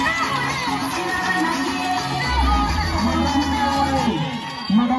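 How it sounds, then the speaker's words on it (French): School crowd cheering and shouting for a long-serving teacher at a cultural day event, with children's whoops and mixed voices rising and falling over a few seconds. "Applaudissez pour elle."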